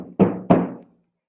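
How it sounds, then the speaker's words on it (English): Two loud, heavy thumps on a door, the second following about a third of a second after the first, each with a short resonant decay into silence. "there was a big thump on the door."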